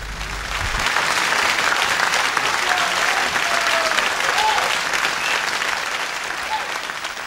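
Sustained audience applause fills the room at a live music event, steady and dense throughout, with a faint whistle or cheer rising briefly above the clapping.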